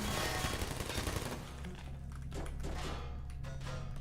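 Rapid automated turret gunfire in the Portal video game, a faint, dense rattle of shots over a low steady hum, without speech.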